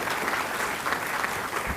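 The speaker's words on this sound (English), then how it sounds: "go ahead and clap for that" A steady burst of audience applause at an awards ceremony, dense even clapping from a crowd filling the whole moment.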